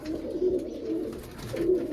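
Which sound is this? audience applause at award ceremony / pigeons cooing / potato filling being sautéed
pigeons cooing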